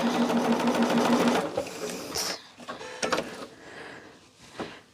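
A sewing machine stitches a Bella Rose 2024 Merry Christmas quilt. It runs in a steady, loud whir for about a second and a half, then stops, and fainter clicks and handling sounds follow.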